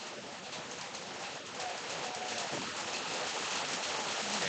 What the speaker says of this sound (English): And oh man, is it raining down hard.